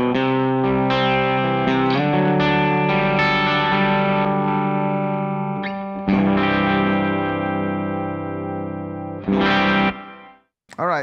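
Electric guitar through a gritty, slightly distorted Fulton-Webb amp, sustained chords and single notes ringing out, with a sharp strummed chord near the end.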